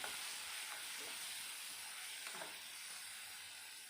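Chopped tomatoes fry with curry leaves in a pan for a mutton bone gravy, a steady close sizzle and hiss with faint stirring scrapes and no voices.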